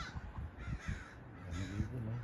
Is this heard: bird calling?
yes